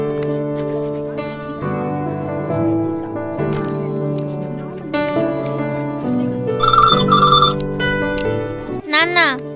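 A telephone rings in a scene from a Telugu-dubbed feature film, the ring set against music and voices, with a short electronic trill near the end.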